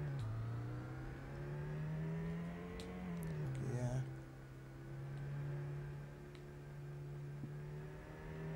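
A car engine revs in the Amiga racing game Test Drive II, holding a loud synthesized drone that dips around a gear change, then climbs again and settles back to a steady whine.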